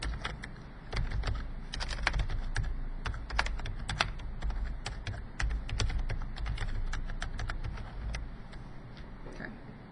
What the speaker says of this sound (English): I'm going to have to type in my teacher email address here to log in.